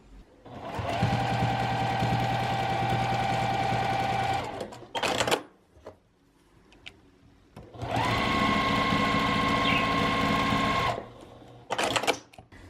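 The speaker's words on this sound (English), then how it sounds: "So for both of them, run stitches down the long ends, and then don't worry about the short ends yet." Sewing machine running long stitch lines down fabric straps for a cross body satchel, two sustained whirring runs of about four and three seconds with brief handling clatter between and after.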